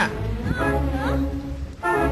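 A cat meows in a Thai drama scene, its rising and falling cries standing out clearly near the microphone amid a background of voices and room noise.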